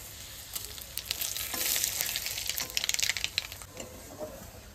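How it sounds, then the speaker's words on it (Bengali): Black cumin and bay leaf sizzling and spitting in hot mustard oil left over from frying fish, a steady crackling hiss with a louder burst of popping midway, close by with no talk. "ফোড়নে দেবো কালো জিরে আর তেজপাতা।"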